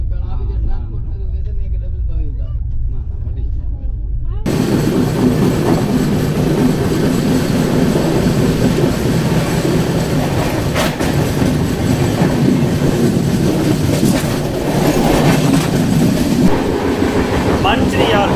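Navajivan Express train running on the tracks through Telangana, first a muffled low rumble, then a loud, steady, close clatter of wheels on rails with rhythmic clicks.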